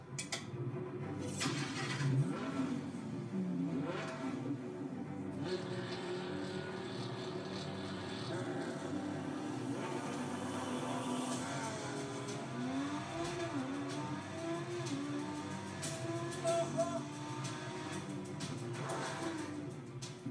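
A Lamborghini Huracan engine revs and accelerates, a loud continuous roar that rises and shifts in pitch through several gear changes.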